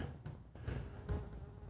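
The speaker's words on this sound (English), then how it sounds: "There's a bumblebee right there." A bumblebee buzzes among pollinator flowers, a soft fluctuating hum near and then drifting, faint against an outdoor background.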